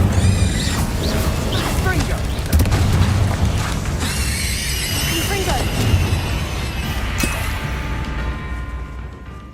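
Spell explosions in the video game Hogwarts Legacy, loud booms and bursts mixed with magical whooshes and chimes during combat, over a persistent low rumble, with voices calling out amid the blasts.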